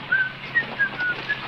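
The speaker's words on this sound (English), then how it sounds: "You have to whistle. Keep on the tune." A person whistles a tune in short, bright phrases of about five quick notes, close and clear over a faint background, with no talking.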